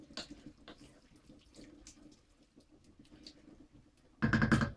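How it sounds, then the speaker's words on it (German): Water poured into a cooking pot of vegan tofu stroganoff, a loud burst of splashing at the end after a stretch of quieter kitchen rustling. "Gebe auch noch ein bisschen Wasser dazu."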